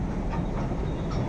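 A metro train at Vidhana Soudha station in Bangalore gives a continuous low rumble with faint clattering of the cars, steady and fairly loud with no talk.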